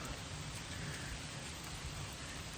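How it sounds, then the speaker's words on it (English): Rain patters steadily on a chilly forest trail, a constant broadband wash of drops that holds level throughout with no voices. "It's a rainy day."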